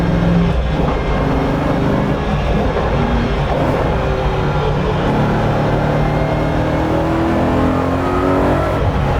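A BMW E92 M3 race car engine revs hard and loud, roaring continuously close by with rising and falling pitch, no voices.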